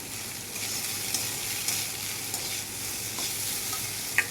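Poha is stirred in a frying pan over gentle heat, a soft steady sizzle with light spatula scrapes and a few small clinks, close by and without speech.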